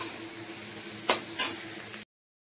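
Slit green chillies and tomato fry in a pan with a steady, close sizzle, broken by two brief scrapes of a utensil stirring before the sound cuts off.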